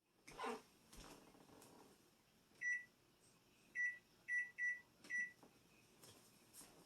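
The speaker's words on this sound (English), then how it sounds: "I'm going to use my timer on the microwave and time it." A short series of high electronic beeps from a microwave timer sounds after a few soft clicks and bumps, clear but not loud in a quiet room.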